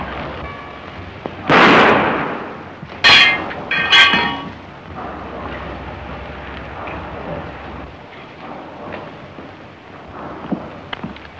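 Gunshots in a 1935 movie ring out as sharp, loud cracks, one near the start and two close together a moment later, followed by a quieter background of faint noise.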